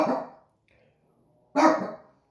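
A dog gives two sharp, loud barks close by, separated by a second of near silence, with no talking.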